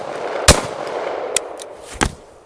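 Three sharp outdoor gunshots from a pistol fitted with a carbine conversion kit, fired at a small steel gong, spaced about a second apart over a steady background hiss.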